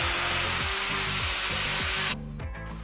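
A blender whirs loudly while mixing sweet potato cake batter, a steady motor drone with rhythmic chopping pulses that drops to a lower hum near the end.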